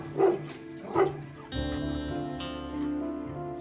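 A very large dog barks twice in close, loud bursts, followed by a sustained engine-like drone, likely a passing motorcycle on a rural village road.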